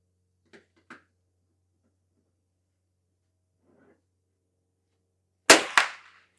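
Two sharp cracks from a Henry H001 lever-action .22 rifle fired at a target 50 yards out, the second quickly following the first, loud and close after a quiet stretch with a few faint clicks of handling the gun.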